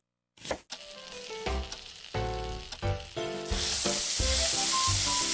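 Stir-fry sizzling from the Cooking Mama: Cook Off Wii video game, a steady frying hiss that builds and thickens, mixed with bright game chimes and musical tones, with no talking.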